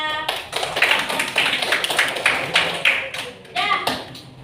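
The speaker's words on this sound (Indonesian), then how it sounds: "berikan aplaus kepada" Classroom applause for a student group: a close run of rhythmic hand claps and taps pulsing for a few seconds.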